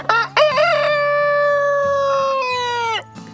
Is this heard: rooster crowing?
yes